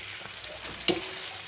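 Prawns mixed with garlic and curry leaves fry on a flat griddle, giving a soft, close sizzle with a couple of brief clicks, quiet and alone.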